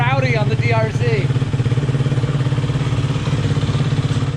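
A Suzuki DRZ dirt bike engine runs with a steady, throbbing mid-pitched drone throughout, and a voice talks briefly over it at the start.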